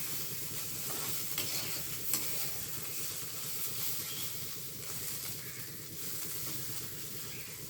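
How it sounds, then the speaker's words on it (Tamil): Cumin seeds stirred in a hot pan, giving a steady low sizzle with scraping stir sounds and a few small crackles, close and without talk. "கூடவே நான் ரெண்டு சீரகம் போடுவேன் போட்டுட்டு நல்லா மிக்ஸ் பண்ணுவோம்"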